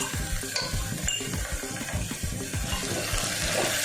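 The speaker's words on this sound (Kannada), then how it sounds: "ಇದು ಹಸಿ ವಾಸನೆ ಹೋಗೋವರೆಗೂ ನೀಟಾಗಿ ಫ್ರೈ ಮಾಡ್ಕೊಳ್ಳೋಣ" Ginger garlic paste frying in hot oil with vegetables, a steady dense sizzle with stirring scrapes and clinks throughout, close and loud without pause.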